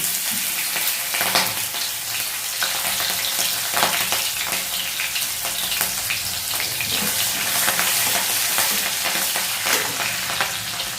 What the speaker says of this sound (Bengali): একটু ভালো করে একটু নাড়িয়ে চাড়িয়ে এখন এর মধ্যে দিয়ে দেবো কাঁচা লঙ্কা কুচি